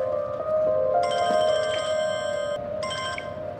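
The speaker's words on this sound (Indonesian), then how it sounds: "Dia hanya mendengar ponsel yang berdering tanpa mendapat jawaban" A mobile phone rings with a bright electronic tone in a Korean drama scene, two bursts of layered ringing over a steady hum, fairly close and loud, unanswered.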